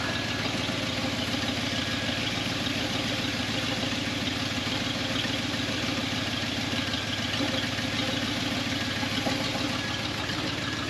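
A 1978 Chevy K10 square-body truck's old V8 idles steadily up close, a continuous low, rough rumble with a faint rhythmic tick, unbroken throughout.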